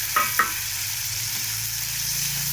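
Vegetables sizzle steadily in a hot pan close by, with two quick stirring scrapes near the start and then an even, unbroken fry to the end.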